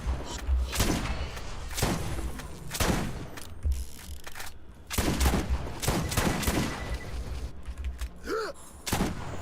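Borderlands 4 gameplay combines rifle shots and melee strikes in a rapid shoot-melee-shoot rhythm, several loud close bursts and thuds repeating over about nine seconds amid game effects.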